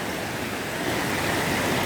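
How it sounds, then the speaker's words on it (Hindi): A waterfall on the Gangotri–Kedarnath trek path roars as a steady, dense rush of water, close and continuous with no break and no voices. "झरना है"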